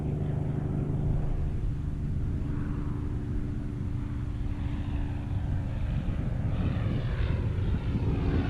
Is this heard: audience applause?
no